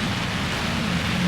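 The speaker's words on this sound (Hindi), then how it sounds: "बारिश बहुत तेज हो गई है।" Heavy rain pours onto a road in Shimla, a steady, dense broadband hiss close by that fills the whole moment without pause.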